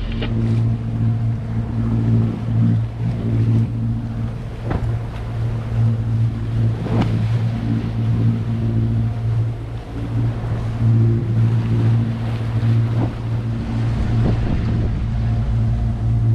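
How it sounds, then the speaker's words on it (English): A boat engine drones steadily with a low, constant hum at sea in strong wind and swell, while wind and water slap against the hull in irregular bursts. "So you can hear the engine is on."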